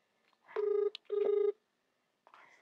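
A telephone rings indoors, two clear electronic rings with a short pause between, fairly quiet and without talk.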